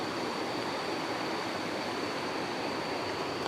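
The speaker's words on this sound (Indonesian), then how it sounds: "Kita harus menyeberangi dulu sungai ya." A river running after heavy rain produces a steady, loud rushing roar of flowing water that holds unbroken throughout, with no voices over it.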